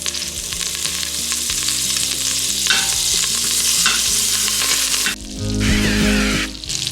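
Butter and chicken frying in a pan, with a steady loud sizzle that rises and falls in bursts as food is stirred and moved, no talking.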